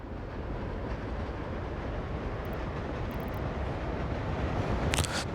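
Freight train hauling an aluminium load in a Soviet Republic video game, a steady low rumble of rolling wagons running continuously at moderate level, with a brief higher rattle near the end.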